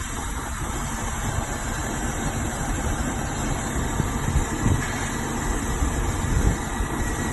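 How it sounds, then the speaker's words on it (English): A fire pumper's deck gun raises into its home position while the truck's engine keeps running, a steady loud mechanical drone with faint shifting whirs throughout. "So you can see the gun raises into its home position."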